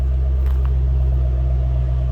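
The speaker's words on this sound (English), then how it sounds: "Nice deep throaty exhaust." A 2007 Ford Mustang Shelby GT500 convertible idles with a deep, steady, throaty exhaust rumble heard up close, an even low drone with no revs and no talking.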